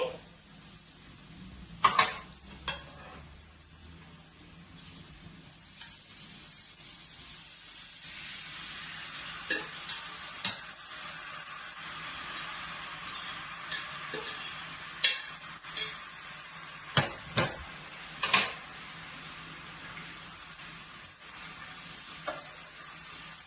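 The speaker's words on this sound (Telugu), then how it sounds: "ఇంకా ఇప్పుడు పాస్తా వేసుకోవాలి" Pasta tossed into a frying pan with sauce, a steady hiss of sizzling under repeated spoon clacks and scrapes against the pan, fairly close, with no voices.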